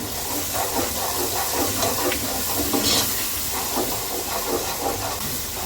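Spice masala with fennel powder, ajwain and Kashmiri red chilli frying in oil for keema matar, a steady loud sizzle with bursts of crackle and scraping stirs throughout.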